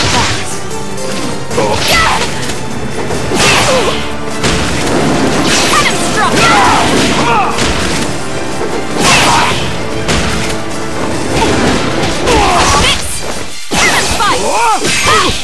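Mega Man firing the Mega Buster in Street Fighter X Tekken, loud game blasts, whooshes and impact crashes layered over music and character voice shouts, dense and continuous throughout.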